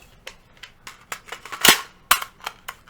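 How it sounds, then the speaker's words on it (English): A magazine clicks and snaps into the magwell of an AR15 pistol chambered in 300 Blackout, a few small metallic clacks building to two sharp close-up snaps, with no talking. "Locks into place."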